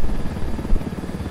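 Helicopter flying in Ghost Recon Wildlands, a loud, close, steady rotor thump with a low pulsing chop and engine whine, heard alone.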